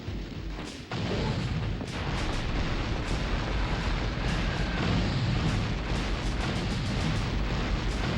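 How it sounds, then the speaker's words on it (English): Grenades detonate over and over in a Bruce Willis video game, a dense barrage of loud, close booms and crackling blasts that keep going almost nonstop with no break. "Wow, the grenades do so much damage."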